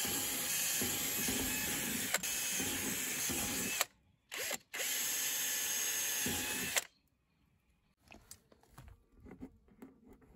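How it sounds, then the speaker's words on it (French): Power drill boring holes through a patch panel on a BMW 118d E87 car body, a steady loud whine in two long bursts with a short pause between, then stopping and leaving only faint handling noises. "je vais aller chercher la perceuse et puis on va percer les trous."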